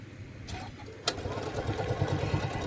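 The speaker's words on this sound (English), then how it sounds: "we're going to do just a stitch, straight stitch all the way down" A home sewing machine running a straight stitch down a quilt block, its motor humming close and steady with a rapid needle chatter after a brief click.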